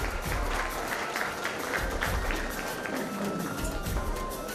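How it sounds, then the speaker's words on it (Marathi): Sustained applause from a crowd at a school annual prize-giving ceremony, dense and even, continuing steadily throughout without pause. "टाळ्या अजिबात थांबल्या नाही पाहिजेत"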